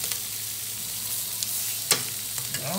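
A small breakfast frying gently in a pan, a low steady sizzle with occasional sharp clinks and scrapes of a utensil.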